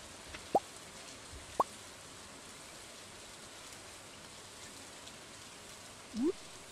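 Rain falling in the farming video game Stardew Valley, a quiet, steady hiss with a few soft, isolated plops and drips scattered through it.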